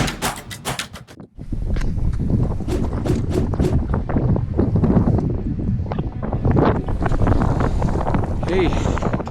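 Strong, steady wind buffets the microphone high on Mount Adams, a glaciated Cascades volcano, a loud continuous roar filling the whole stretch after a brief lull at the start, with speech mixed in.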